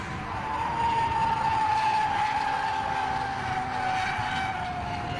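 Race cars in a 24-hour endurance race at Silverstone roar past on the pit straight, a steady loud engine drone with a sustained rising and falling tone, heard from a distance without talk.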